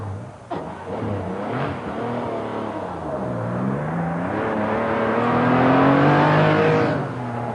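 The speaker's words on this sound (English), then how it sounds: "Tony Dron in the big Ford was happily playing the role of mobile chicane to the Porsches" A 1993 rally event with a big Ford rally car and several Porsches racing, their engines roaring loudly and continuously, the pitch sweeping up and down as the cars accelerate and pass close by.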